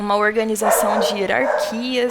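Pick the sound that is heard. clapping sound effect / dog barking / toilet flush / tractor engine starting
dog barking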